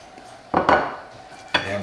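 A big knife scrapes and clinks against a plate while cutting a medium-rare chuck eye steak with a crispy dark crust, giving two or three short metallic strokes with quiet gaps between.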